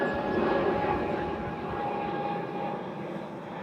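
An airliner departs Toronto Pearson airport with a steady, rumbling jet roar heard from a distance. The sound stays broad and even for the whole moment, with no talk over it.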